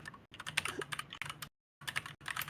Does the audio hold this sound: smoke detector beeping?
no